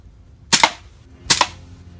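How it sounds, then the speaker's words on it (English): A Beretta 92 air pistol fires two sharp, close shots at a face mask in a backyard, spaced under a second apart with quiet between. "So, face mask versus the Beretta 92."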